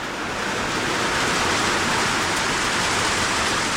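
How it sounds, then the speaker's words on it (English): Steady rain falling outdoors on a farm in Africa, a dense, even hiss with no breaks, continuous and fairly loud with no voices. "You love the rain?"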